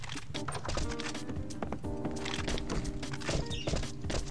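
Many footsteps in the video game Last Island of Survival clatter together in a busy, overlapping shuffle, with scattered thumps and knocks throughout.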